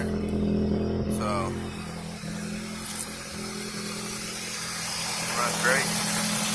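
A Honda D16 car engine idles with a steady low hum that holds throughout, while a person talks over it and a few faint squeaks and clicks come through.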